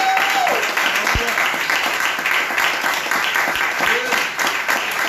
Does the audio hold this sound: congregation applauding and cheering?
yes